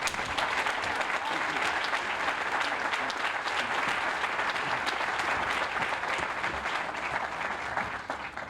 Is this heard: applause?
yes